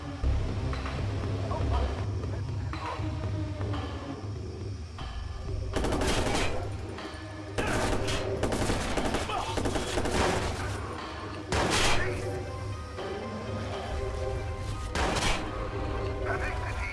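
Sustained automatic gunfire fills a Watch Dogs shootout, with rapid bursts and volleys that keep layering and peak in loud clusters, under a constant low rumble.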